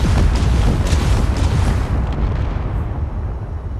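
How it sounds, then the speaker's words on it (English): A ship's full bank of rocket launchers fires at once in Space Engineers, a dense, roaring burst of explosive blasts that fades slowly with no talk. "If we push number 7, that will shoot all the rocket launchers at once"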